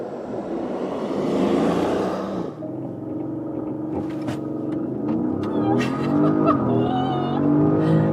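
A Porsche Cayenne Turbo hybrid SUV accelerates hard, with a strong engine roar rising and shifting in pitch and a rumble that stays steady and close from inside the car.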